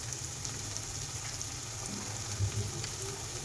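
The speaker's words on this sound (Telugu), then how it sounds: "ఉల్లిపాయలు బాగా ఎర్రగా వేగేంత వరకు ఉంచాలి" Onions with salt and turmeric fry in a pan for a yam curry, giving a soft, steady, close sizzle with faint crackles and no talk.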